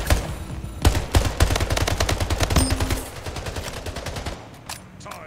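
Rapid, loud automatic rifle fire in the zombie shooter Left 4 Dead 2, dense bursts of shots that continue steadily, then thin out and fade at the end, with no talking.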